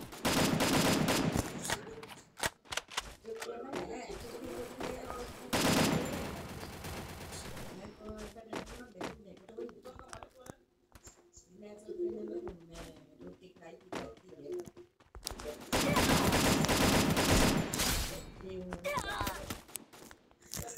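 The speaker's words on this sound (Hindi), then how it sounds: "अबे यार ये पीछे से जो मार रहे हैं ना बंदे गाइस, ये बहुत गन डाल रहे हैं।" Gunfire coming from behind the player in a Free Fire Craftland map: loud bursts of rapid shots at the start and again near the end, with someone talking over quieter stretches between them.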